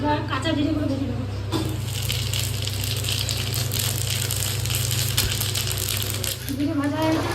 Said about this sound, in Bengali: এবার কাঁচা জিরেগুলো ভেজে নেবো।